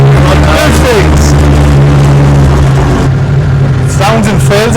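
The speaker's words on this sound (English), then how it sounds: "Sounds and feels like a proper race car" A modified car with coilovers idles loudly and steadily up close, a deep constant engine drone with a throaty race-car character running throughout, while people talk over it.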